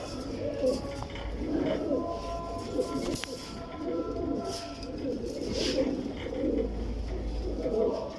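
Pigeons coo in soft, repeated throaty bursts close by, with rustling and faint background noise between the calls, in Alexandria, Egypt.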